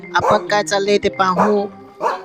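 A dog gives several short, close barks in quick bursts, mixed with a person talking.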